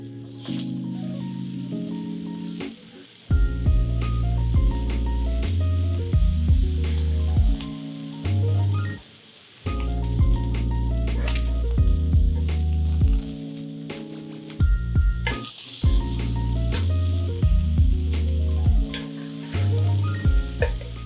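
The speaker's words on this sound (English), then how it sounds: "We're gonna sear them, finish them off in the pan for the most part, get them cooked." Sausages sear in a pan with a loud, steady frying sizzle. Prominent music plays over it, and the sizzle stands out more strongly near the end.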